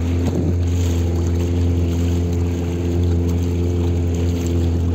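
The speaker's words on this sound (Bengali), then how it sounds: "একটা স্পিড বোট বেরিয়ে যাচ্ছে উল্টো দিকে।" A motor speedboat runs on a dam reservoir near lock gates and a hydel power project, its steady engine drone and hull rumble continuous and fairly loud throughout, with water wash underneath.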